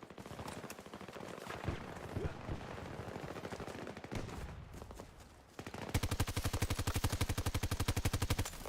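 Rapid automatic gunfire in the shooter game Battlefield, bursts of shots early, then a sustained fast stream of rounds in the last few seconds, loud and close.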